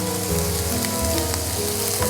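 Boiled leftover rice fries in a hot pan for nasi goreng with a loud, dense, continuous sizzle. Faint stirring scrapes run underneath.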